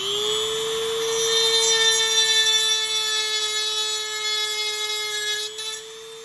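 A drill bit grinds into an aluminum convertible-top lift cylinder from a Saab 9-3, giving a steady, high, whining, buzzing tone that holds for several seconds close by and then drops away near the end.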